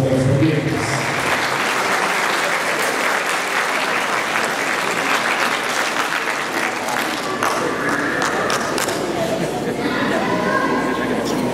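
Applause from the audience at a school graduation ceremony, steady broadband clapping that fills the whole stretch with a light murmur of crowd chatter underneath, fairly even in loudness throughout.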